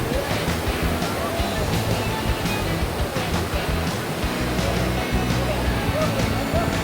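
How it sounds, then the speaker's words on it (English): Big ocean waves break on a beach in Cornwall, a steady loud roar of surf with wind buffeting the microphone. "And this is where the waves are starting to get really big here."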